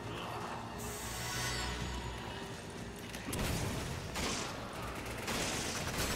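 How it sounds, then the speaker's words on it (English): Enemy gunfire in Resident Evil 5, with dense, continuous bursts of shots crackling throughout, growing heavier and closer in the second half, with no one speaking. "Oh god, they keep shooting at me!"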